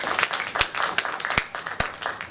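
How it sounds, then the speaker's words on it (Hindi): Enthusiastic audience applause at a Hindi literary evening, a dense wash of many hands clapping with sharp individual claps standing out, loud and sustained for a couple of seconds. "एकदम जोरदार तालियां।"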